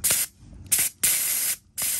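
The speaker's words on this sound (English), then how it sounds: "spray water through the nozzle to clean that out so it doesn't dry in your gun" Spray gun nozzle sprays water to flush out leftover rubberized truck bed liner, three loud hissing bursts separated by short quiet gaps, close and alone.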